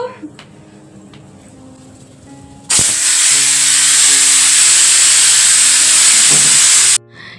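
A kitchen pressure cooker bursts into a loud, steady hiss of escaping steam that holds for several seconds before stopping abruptly, with quieter room sounds before it.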